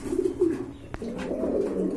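Red checker homing racer pigeons cooing close by, soft low throaty coos repeating in short phrases with a single sharp click partway through.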